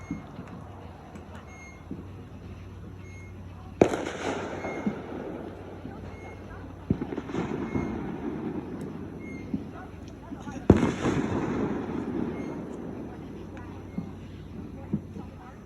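Fireworks exploding outdoors, with two sharp loud bangs and a rumbling crackle between them over a steady background hum, while people talk nearby.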